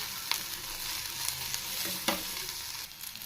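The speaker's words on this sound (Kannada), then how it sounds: "ಹಸಿ ವಾಸನೆ ಆಗೋವರೆಗೂ ಫ್ರೈ ಮಾಡ್ಕೋಬೇಕು ಚೆನ್ನಾಗಿ" Mint and spices fry in a pan with a bright, continuous close sizzle, punctuated by a handful of quick scraping stirs.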